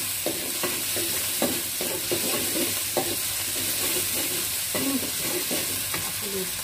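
A ground spice paste sizzles steadily in a hot pan for a fish dish while a spatula scrapes and stirs in irregular taps. The sound is close and continuous, with no talking.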